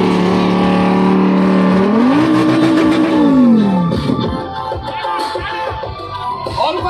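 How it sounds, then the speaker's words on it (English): A heavily modified Ford Mustang GT at an underground car meet revs loudly, its engine note climbing and sliding in pitch before dropping back, with crowd noise and voices around it. "Arbaz, Arbaz Samiz, Ford Mustang GT, insanely modded!"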